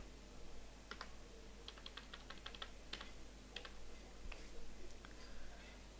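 Keys tapped on a computer keyboard while a localhost address goes into a browser tab, a quiet run of irregular clicks in short bursts over a steady low hum.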